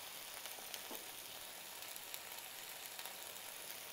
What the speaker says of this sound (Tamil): நல்லா பட்டரில் நல்லா ப்ரே பண்ணிட்டு தேவையான அளவுக்கு இஞ்சி பூண்டு பேஸ்ட்டு